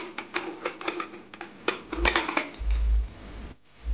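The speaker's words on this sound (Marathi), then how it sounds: "आपण कुकरचं झाकण लावून घेऊ." A metal pressure cooker lid being fitted onto the pot for veg pulao, a series of close metallic clinks and clatters followed by a short low thump.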